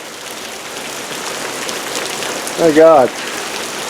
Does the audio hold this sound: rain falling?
yes